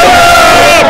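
Moroccan football fans massed in the street before an Olympic match against Iraq in Nice, a loud, dense roar of shouting voices, brief and close.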